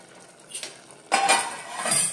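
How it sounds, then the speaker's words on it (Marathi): A metal lid clanks down onto a pot of spiced brinjal rice with a sharp, close clatter, followed by a brief rattle as it settles. "याला झाकण लावायचं आहे।"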